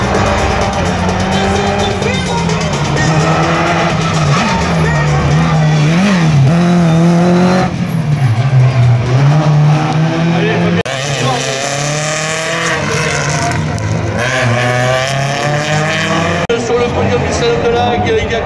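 Rally car number 51 launching on a slalom course at Saint-Lô, its engine revving hard and shifting through gears with tire squeal, loud and sustained, while a commentator talks over it.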